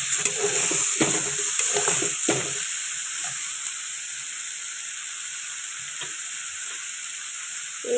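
Chopped tomato fries in a pan with a steady, loud hiss of sizzling. A few scraping stirs come early, and the sizzle then settles into a continuous hiss.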